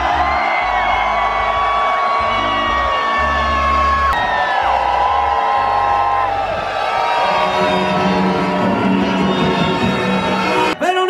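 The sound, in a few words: crowd applauding and cheering at ski World Cup in Jasná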